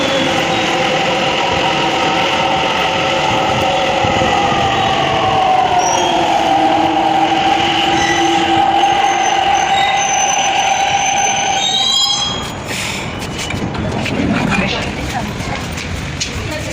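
A metro train pulls into a station, its rising and falling wheel and motor tones drawn out steadily for about twelve seconds before a sharp change as it stops, with people talking amid the station noise.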